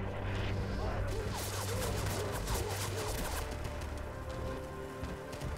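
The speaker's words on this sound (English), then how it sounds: "Artillery." Dense gunfire and explosive artillery blasts in the Rising Storm war video game, a continuous loud battlefield wash of shots and booms with faint voices mixed underneath.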